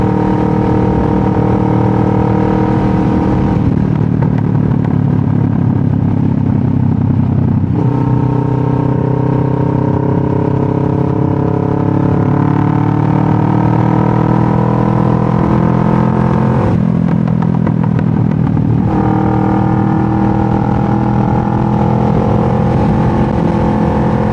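A motorcycle engine roars steadily while riding, loud and close, with rising pitch through the gears and a couple of shifts marked by brief dips before the revs climb again.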